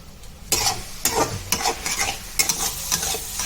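Mushroom fry coated in chilli powder and garam masala is stirred in a pan, with loud, close scraping strokes and steady frying sizzle coming in repeated bursts, no voices.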